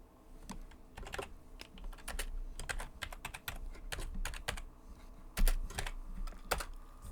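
Continuous typing on a computer keyboard, with rapid, irregular key clicks running throughout at close range and no voices.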